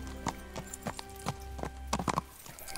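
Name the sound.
horse hooves clip-clop in video game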